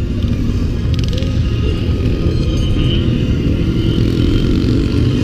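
Motorcycle engines rumble continuously as the bikes ride on gravel, with a gritty, churning undertone, loud and steady throughout without pauses, at a motorcycle festival.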